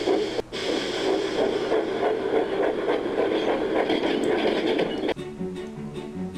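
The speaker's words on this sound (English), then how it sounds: "Percy didn't want Thomas to know what he was up to, so he puffed away quickly" A toy steam engine runs along its track with a rhythmic rolling clatter and chuffing, fairly close, before abruptly cutting off near the end.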